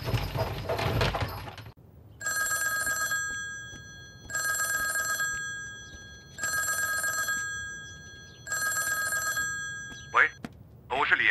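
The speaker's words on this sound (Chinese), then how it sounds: "佟主任， 你这一来电话，我心里就哆嗦，咋了？" A telephone rings in four long, loud bursts with even pauses between them, following a brief stretch of voices and noise at the start; one short clatter follows the last ring.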